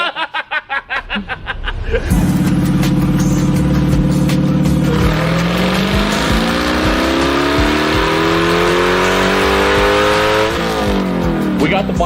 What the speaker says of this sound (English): We got the black car in the dyno. We did a couple test pulls on pump gas to see exactly what she's doing.